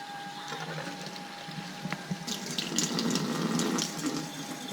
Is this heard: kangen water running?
yes